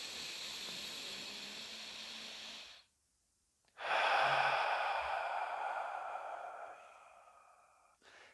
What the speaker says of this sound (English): when you breathe in deeply